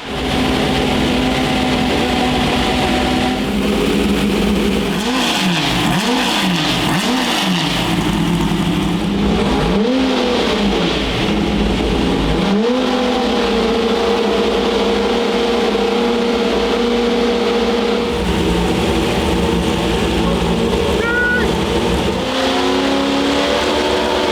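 A manual C8 Corvette drift car's engine revs hard on a dyno toward 9,000 RPM, loud and close, with repeated rising and falling pulls followed by long sustained high-rev holds and no talking.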